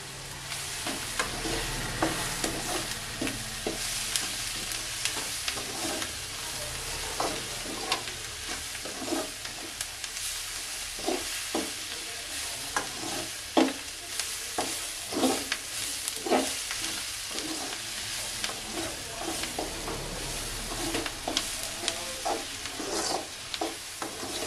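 Food fries and sizzles in a pan while being stirred, with a constant hiss broken by regular scraping strokes of a spoon, close and alone with no talk.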